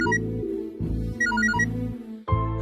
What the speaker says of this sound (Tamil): ஹாஸ்பிட்டல்ல இருந்தா ஃபோன் புஷ்பா